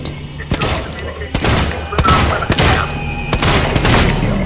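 Rapid bursts of gunfire blast at robots in the survival horror game Alien Isolation, a series of sharp loud cracks in quick succession over a low background hum.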